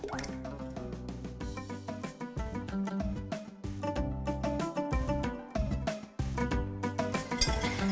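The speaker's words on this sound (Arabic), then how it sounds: "غادي نستمر نخلط غير بالطراب اليدوي حتى كنحس بان الخليط ديالي بدا كينسجم" Cake batter of eggs, sugar, salt and vanilla whisked by hand with a wire whisk, giving rapid, close, rhythmic clicking and wet slapping strokes that run continuously with a brief pause near the end.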